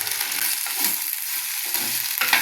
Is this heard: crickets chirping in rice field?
no